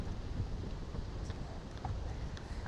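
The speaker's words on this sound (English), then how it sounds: "This is too windy." Wind gusts across open water from a bass fishing boat in summer, a steady low rumble of wind buffeting the microphone with faint lapping behind it.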